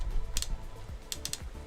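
Rubber piece on a LEGO loop rollercoaster crank mechanism clicking as the crank winds string, a few quick sharp clicks, one early and a tight cluster of three later, over a low background rumble.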